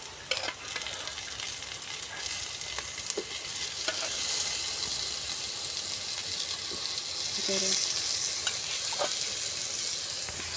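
Chana dal and carrot fry and sizzle in a pan while a utensil stirs them, giving a steady close hiss with scattered scraping clicks throughout.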